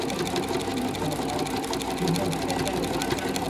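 Sewing machine stitching a beginner rag quilt, a fast continuous mechanical whirr with a steady needle rhythm, close and loud, with a voice talking over it.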